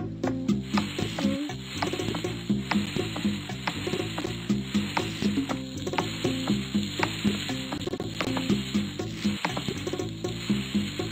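Burger patties sizzling on the grill in the cooking game Papa's Burgeria, a steady frying hiss layered with game clicks and a looping tune, continuous and fairly loud with no talk.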